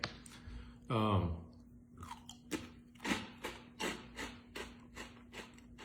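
Crunchy fish-flavoured puffed wheat snacks from a bag are chewed close up in a steady rhythm of crisp bites, after a brief voice at the start.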